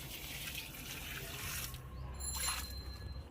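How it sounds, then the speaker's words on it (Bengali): Water poured onto potted garden plants, a steady close splashing and trickling stream that runs through the short moment, swelling slightly near the end. "এখানকার গাছগুলোতে একটু জল দিয়ে দেবো"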